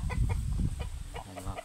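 A Black Astor Lord gamecock rooster clucks in short repeated bursts, close and fairly loud, with a low rumble of background noise beneath.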